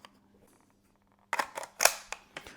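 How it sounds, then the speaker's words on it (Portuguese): Dry-fire safety click of an FMP SAR97 rifle, a Portuguese civilian G3-type rifle, pointed in a safe direction, heard as a few sharp, close mechanical clicks and clacks of handling after a quiet start. "caso queiramos, podemos, numa direção segura, efetuar um disparo de segurança"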